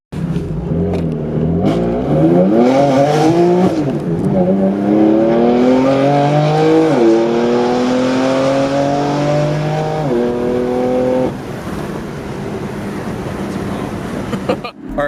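A BMW M4 fitted with ARM resonated catless downpipes revs its exhaust loudly and up close, with rising and falling engine tones sweeping through several sustained pulls before it drops back toward idle.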